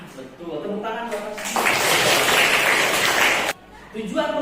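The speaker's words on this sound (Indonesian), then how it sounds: "Tepuk tangan Bapak." Burst of classroom applause from students after a teacher's prompt, about two seconds of dense clapping framed by speech before and after.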